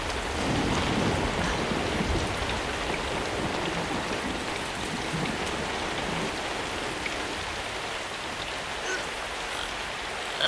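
Steady, dense rain pours throughout a dramatic movie scene, a loud continuous wash with occasional heavier gusts and a low rumble beneath, with no talking.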